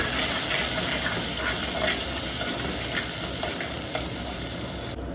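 Garlic fries with onions in a hot pan, giving a steady, close sizzle and hiss with faint stirring scrapes.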